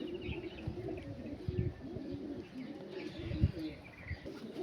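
Andhra kalaka pigeons giving soft, low coos close by, with bursts that come and go over a steady murmur of background noise.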